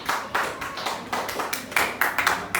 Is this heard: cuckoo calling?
no